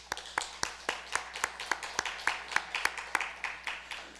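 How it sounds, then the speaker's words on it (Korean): A church congregation claps during a worship service, a steady run of sharp, evenly spaced claps at moderate distance with no talking over them. "우리 서로를 위해서 큰 박수 한번 치겠습니다"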